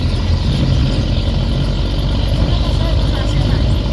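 A car engine labors steadily up a winding hill road in Sajek Valley, a continuous low rumble that holds close and loud throughout with no break.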